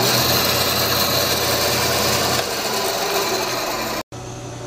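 Small $99 bandsaw cutting through wood for an outdoor shed speaker roof, a steady loud buzzing, whirring run with the blade rasping through the timber, the pitch shifting partway and a brief dropout near the end.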